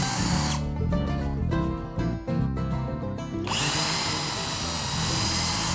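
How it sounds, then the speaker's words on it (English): A power drill drives screws into a wooden workbench section, its motor whining loud and close in a steady run that bogs down briefly as each screw seats, then spins freely again. "attach it with screws, making sure the screw heads are at or slightly below the surface"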